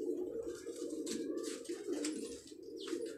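A long-tailed pigeon held in the hand gives soft, repeated coos, a close, low rolling murmur with a few faint higher chirps and no talking.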